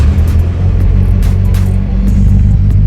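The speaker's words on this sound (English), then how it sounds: "the very first cold start for the boys with a big old fuel system" A straight-piped Mitsubishi Evo making 700 wheel horsepower, fitted with a big fuel system, runs on its first cold start with a loud, close, deep rumbling idle and slight throttle blips, continuous and raw with no talking.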